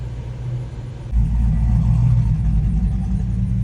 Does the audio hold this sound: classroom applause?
no